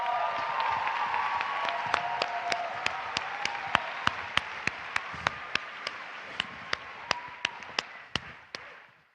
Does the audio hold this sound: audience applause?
yes